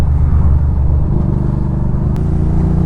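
A motorcycle engine rumbles steadily at low revs with a deep, throaty exhaust note from an aftermarket Scorpion oval exhaust, close by and continuous.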